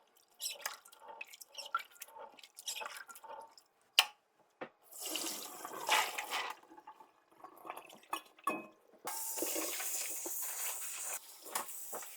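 Tap water splashes and drips in a kitchen sink while dried corn for homemade tortillas is rinsed, coming in uneven bursts and trickles, then a steadier running stream near the end.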